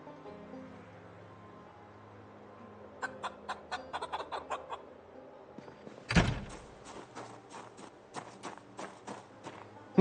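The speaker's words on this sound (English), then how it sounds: "Did I hear some angry clucking in here?" Chickens in the Project Zomboid video game cluck in short, quick bursts of sharp notes. A louder knock or door thud sounds midway, and more clucking follows at moderate distance over a quiet background.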